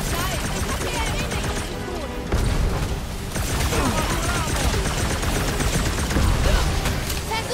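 Rapid gunfire in Marvel's Guardians of the Galaxy, set on Knowhere, rattles in dense bursts while shooting at clamps. Impacts and game effects run continuously underneath.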